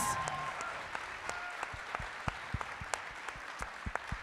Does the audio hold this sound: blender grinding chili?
no